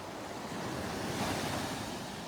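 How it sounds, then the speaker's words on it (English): Ocean waves break on the beach at Delnor-Wiggins, a steady wash of surf mixed with wind buffeting the microphone, continuous and moderately loud with no voices. "Got a little more wave action than we did the other day."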